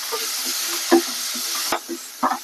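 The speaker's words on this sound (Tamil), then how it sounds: "இப்போ இது நல்லா வதங்கணுங்க. நல்லா இந்த பச்சை வாசனை போகிற அளவுக்கு வதங்கட்டும்." Ingredients for a spinach and milk kootu sauté and sizzle in a pan under a constant bright hiss, broken by several sharp spatula scrapes and knocks against the pan.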